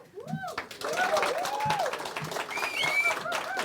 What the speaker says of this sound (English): One more round of applause for both of our candidates.